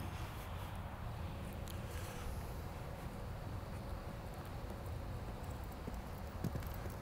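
Faint horse hooves clip-clopping on the ground during a riding exercise over a directional jump, a soft steady rhythm beneath a quiet outdoor background.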